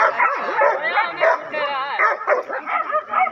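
Several dogs, including a large one, bark, yelp and snarl while fighting a porcupine, a loud, close, chaotic tangle of overlapping growls, yips and whimpers throughout.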